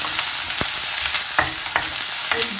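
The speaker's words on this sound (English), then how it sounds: "Now this curry leaf, we have to make it a bit crispy." Curry leaves frying in a pan until crisp, a bright steady sizzle close by with a few sharp crackles and stirring knocks, no voices.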